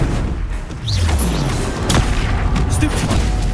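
A Confringo blast spell in Hogwarts Legacy, loud fiery booms and crackling impacts layered over busy combat noise, with a whooshing swell partway through and a dense, continuous roar of battle effects.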